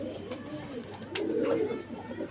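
Low, throaty cooing from Lokhande pigeons, a fancier's champion birds, carries on close by, rising into a fuller burst midway, with faint background noise and a hint of distant voices.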